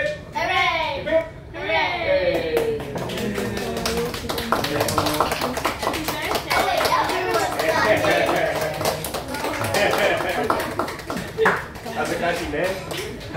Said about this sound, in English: Was everyone clapping? They were, man.